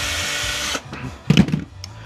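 A power drill backs screws out of an electric soap dispenser being scrapped, giving a steady whirring buzz that cuts off, then a short louder burst of drilling and rattling close by.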